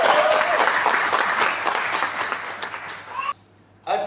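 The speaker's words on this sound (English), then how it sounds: "the graduates, you can clap hands for yourself" Graduates at a veterinary sciences graduation ceremony clapping for themselves, a loud sustained burst of crowd applause that fades briefly into near silence before picking up again at the end.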